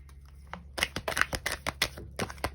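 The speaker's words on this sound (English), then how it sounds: "Alright, so let's shuffle this deck and see what we get." A tarot card deck being shuffled close up, a quick run of crisp riffling slaps and flutters in an irregular rhythm, with no voices over it.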